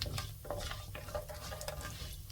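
Fenugreek seeds fry in sesame oil with a soft, continuous sizzle, broken by faint scraping stirs of a spoon against the pan.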